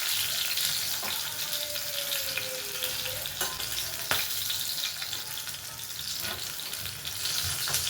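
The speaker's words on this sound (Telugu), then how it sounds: "పచ్చిమిర్చిని ఇందులో ఫ్రై చేసుకుంటున్నాను" Green chillies fry in hot oil in a home kitchen with a steady, close, dense sizzle and faint occasional clinks and stirring taps throughout, and no talking.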